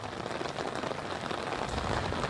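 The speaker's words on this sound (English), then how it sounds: "you can hear that rain pouring" Heavy rain pours steadily at the start of a severe thunderstorm outside a shopping mall in Joplin, Missouri, a dense, close, unbroken hiss of drops hitting the surface with no voices.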